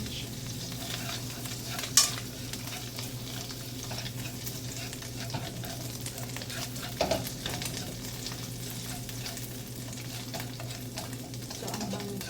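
Garlic stir-fried and stirred in a pan for a shrimp and asparagus dish, a steady close sizzle with occasional scraping clinks of the utensil, no talk.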